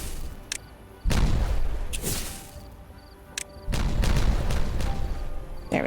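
Explosives detonating in Timberborn during terraforming, two loud booming blasts about two and a half seconds apart, each with a rumbling tail, plus smaller sharp pops between them.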